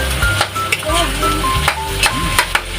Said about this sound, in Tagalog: Haluin lang ng haluin.